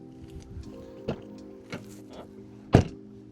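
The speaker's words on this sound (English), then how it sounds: "let's take a listen on the door sound" A 2005 Honda Jazz car door opening and closing, heard as a few quiet clicks and latch knocks followed by one sharper, nearer thunk near the end. No talk.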